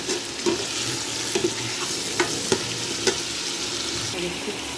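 Kadhi pakora frying in a pan, with a steady sizzle and a few soft scrapes and knocks from stirring, held close and fairly loud the whole way through with no voices.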